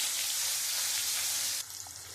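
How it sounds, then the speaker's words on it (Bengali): Chopped onion hits hot oil already used for frying potatoes, cooking for a chicken dish, giving a loud, steady broadband sizzle that eases slightly toward the end. "আমি ওই তেলের মধ্যে আমি একটা পেঁয়াজ কেটে রেখেছি,"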